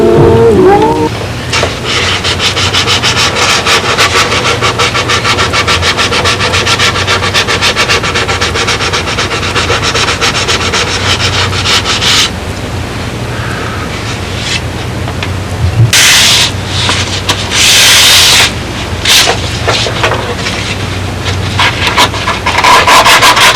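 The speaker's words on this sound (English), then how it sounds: "we're sanding in all them fillets now with 220 with that tool that I have" Steady, continuous abrasive rubbing of 220-grit sandpaper on wood fillets of a model aircraft, close and loud, with brief pauses and a few bursts of harsher scraping.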